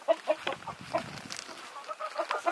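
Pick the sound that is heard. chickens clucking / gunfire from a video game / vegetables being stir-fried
chickens clucking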